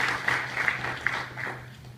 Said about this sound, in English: Let's give her a round of applause first.